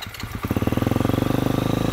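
A 2016 KTM EXC 350 fuel-injected dirt bike cranks and catches, then settles into a fast, even, loud popping idle close to the microphone, with no talk over it.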